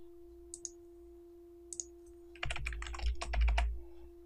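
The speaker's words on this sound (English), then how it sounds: "you can insert a link and you can type in your URL here" Typing a URL on a computer keyboard: a few isolated clicks, then a quick close burst of keystrokes over a faint steady hum.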